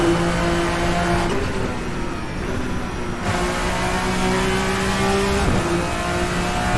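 The Vendetta V60 race car engine in a sim racing game, a loud sustained high-revving drone that shifts pitch through gear changes, steady and close throughout.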